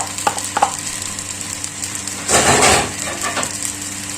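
Kangkong leaves drop into a hot pan of pork fried rice and are stirred, a sudden burst of sizzling and scraping after a few light clinks, close by with no talking.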